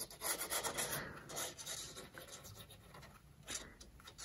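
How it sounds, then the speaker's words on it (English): Glue being applied along the flap of a handmade paper window album, heard as a close, soft rubbing and scraping that comes in uneven strokes, with no talk. "we can go ahead and add the glue to our flap"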